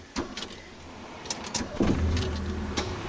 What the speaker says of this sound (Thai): อย่าลืมขาต้องเหยียบที่เบรกไว้ก่อนนะคะ เกียร์ว่างไหมเช็คก่อน อ่าโอเค เกียร์ว่างดีสตาร์ทเครื่องค่ะ